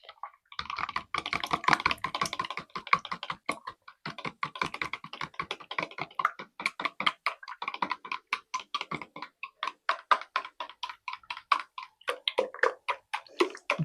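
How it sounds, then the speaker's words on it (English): Eggs whisked by hand into a savoury custard mixture for a creamy leftover gammon bake: rapid, close, rhythmic clicking taps of a whisk against the bowl, steady throughout with occasional brief pauses. "I'm going to whisk all that together."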